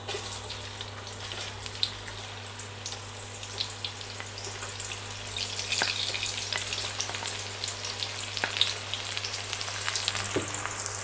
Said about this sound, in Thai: เจียวหัวหอมให้หอมเลยนะคะตั้งกระทะให้ร้อน